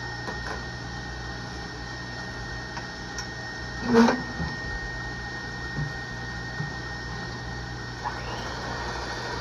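A stand mixer whips egg whites on a slow setting, giving a steady, low mechanical hum with a faint ticking rhythm and one brief clunk partway through.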